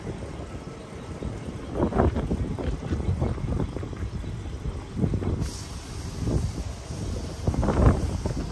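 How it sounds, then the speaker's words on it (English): Gusty wind on a windy Oklahoma afternoon buffets the microphone in uneven surges and rumbles, rising and falling in loud bursts with no talk. "We've got another typical Oklahoma windy afternoon"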